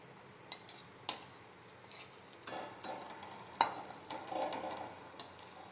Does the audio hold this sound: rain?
no